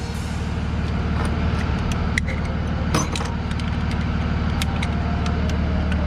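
A Detroit DD15 diesel truck engine idles nearby with a steady low rumble throughout, and scattered metallic clicks and taps from injector repair work sit over it.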